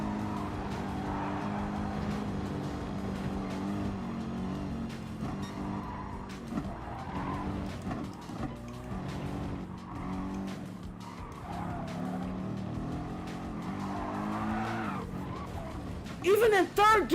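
A race car in Gran Turismo Sport at full throttle and oversteering, its engine droning loud and steady with skidding tire squeal throughout and a few sharp bursts near the end, while a voice talks over it.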